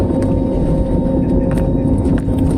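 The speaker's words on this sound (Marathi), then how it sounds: "टेक ऑफला सुरुवात करतोय उड्डाणाला मुंबई विमानतळावरून" A loud, continuous engine roar with heavy low rumble fills the whole stretch, heard from inside the cabin of an airliner taking off from Mumbai airport.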